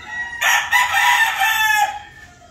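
A Brusko Brownred gamefowl rooster crows once loudly and close by, one sustained call of about a second and a half with no other sounds.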